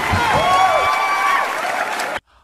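A studio audience applauds on a TV quiz show. The loud, lively clapping is mixed with bright tonal music, then cuts off abruptly into silence.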